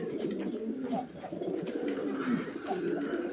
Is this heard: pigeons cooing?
yes